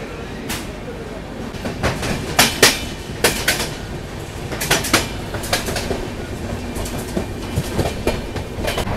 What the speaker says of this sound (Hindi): लोग 137 किलोमीटर की जर्नी कवर कर चुके हैं इस गंगा कावेरी एक्सप्रेस में